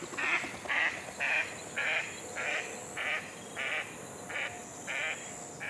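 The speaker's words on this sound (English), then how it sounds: "The most recognisable is a rapid succession of quacks, declining in pitch and increasing in tempo." Pacific black duck call at a wetland, a rapid series of about ten loud nasal quacks in a steady rhythm, heard clearly against faint background noise.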